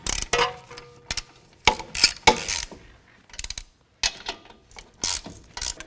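Ratchet wrench spinning nuts onto the CV axle bolts of a 2005–2016 Toyota RAV4 during a front driver side axle replacement, several close, loud bursts of rapid clicking separated by short pauses.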